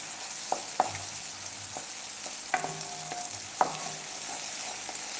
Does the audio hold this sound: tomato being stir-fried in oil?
yes